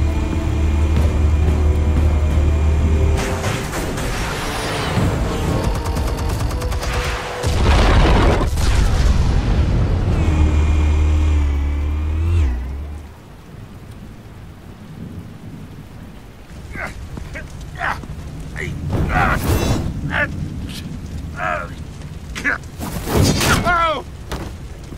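Explosives detonate in Batman: The Telltale Series, heavy rumbling booms rolling for several seconds before fading into quieter scattered crashes and impacts.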